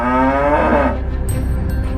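A single drawn-out cow moo fills the first second, loud and close, then fades into a quiet barn ambience with faint high chirps.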